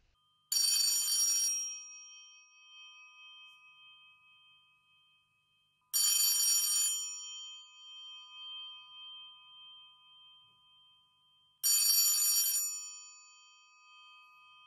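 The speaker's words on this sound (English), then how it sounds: "Telephone bells are driven by an alternating current of 60 volts and 25 hertz." A bright metallic bell on a roughly 70-year-old electromechanical telephone, driven by 60-volt, 25-hertz alternating current, rings in three separate bursts, each about a second long, with quiet gaps of several seconds between them; clear and close.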